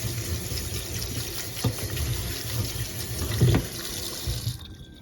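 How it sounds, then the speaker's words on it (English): Steady running cold water from a tap streams and splashes over drained pasta in a sink for about five seconds, then cuts off abruptly. "Add some cold water on top."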